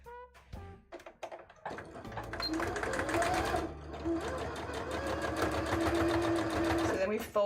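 A sewing machine stitches embroidery in rapid, close mechanical bursts, starting with short taps and then running steadily, while a person talks over it.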